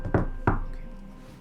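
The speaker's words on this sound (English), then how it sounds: "And there's a knock at the door." Two firm knocks on a door, close and distinct, spaced about a third of a second apart, with a soft room tail fading afterward and no talking.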